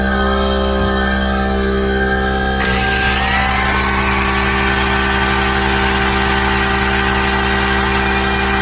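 An electric grinder powered from a solar system's battery bank runs loudly and steadily throughout, its whine shifting as it spins up partway through, with no talking.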